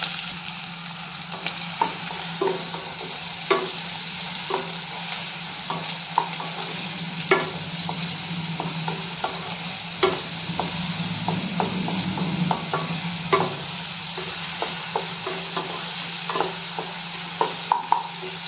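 Chopped onion and whole spices sautéing in hot oil in a wok, a steady close sizzle with frequent scraping stirs and light clinks of a spatula, continuous and even throughout with no talking.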